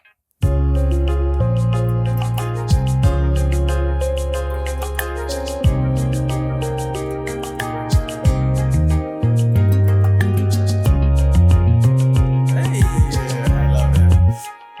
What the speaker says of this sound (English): That instrument, love the pluck guitar